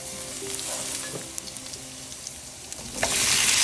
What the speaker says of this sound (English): I'm going to add 2 teaspoons of chopped garlic